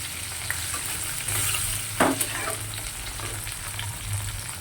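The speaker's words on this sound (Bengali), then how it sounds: "ছোটো ছোটো করে আলু, পেঁয়াজ, টমেটো কেটে দেখো লাল লাল করে ভেজে নিয়েছি" Chopped potato, onion and tomato fry in a pan with a soft, continuous sizzle and a few light stirring scrapes, close and fairly quiet.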